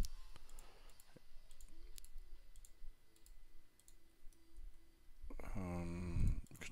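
Computer mouse clicks during 3D modeling in Blender, sparse sharp clicks scattered across a quiet room tone, soft and close, with a louder rustling burst near the end.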